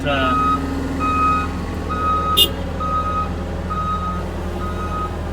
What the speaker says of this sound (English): And that skid steer just packs it down tight.